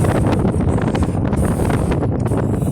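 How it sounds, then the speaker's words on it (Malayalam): Strong wind buffets the microphone near a houseboat terminal by a backwater lake, a steady loud roar with gusty rustling throughout and no voices. "നല്ല കാറ്റുണ്ട് കേട്ടോ, അടിപൊളി"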